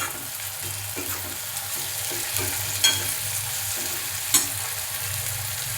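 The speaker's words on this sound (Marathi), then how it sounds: "हे कांदा परतू दे" Onion sautés in a pan with a constant hissing sizzle, and occasional stirring scrapes and clinks sound close by.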